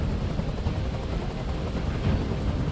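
A helicopter in the video game Detroit: Become Human gives a steady, dense rotor and turbine roar that stays loud and constant throughout, with no speech over it.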